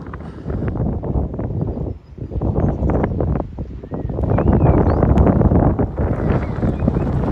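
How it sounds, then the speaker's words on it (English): Strong wind in rural Victoria, Australia buffets the microphone in loud, gusty roars that dip briefly and then surge back harder. "It's very windy, so I don't know whether you'll be able to hear me."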